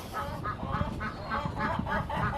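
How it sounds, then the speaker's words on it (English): Farm chickens cluck in a steady series of repeated, pulsing calls, fairly close and continuous, with no talking over them. "I'm gonna let the chickens out"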